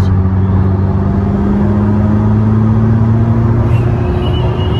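Ferrari SF90 hybrid supercar engine running steadily with a continuous low drone and harmonic hum, loud and close throughout, no voices over it.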